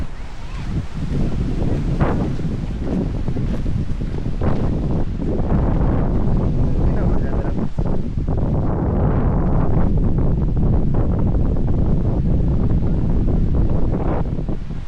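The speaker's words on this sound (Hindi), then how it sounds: "एक तो बहुत तेज़ यहाँ पर हवा चल रही है" Strong wind buffets the microphone in a steady, loud, gusting roar for the whole stretch at an exposed outdoor site, with no voices.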